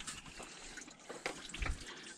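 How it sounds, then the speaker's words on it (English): Coolant draining from a pulled radiator hose into a bucket on a GMC Sierra 2500HD, a steady faint trickle and splash of liquid with a few louder splashes near the end, no talk. "Alright, so we pulled the hose off. We got it draining into a bucket"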